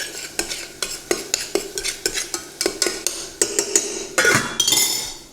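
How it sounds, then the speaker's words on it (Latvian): Minced meat stews with onions in lard while a utensil stirs the pan, a run of close, rhythmic scraping clinks over a soft sizzle. "Viņš te superīgi sautējās"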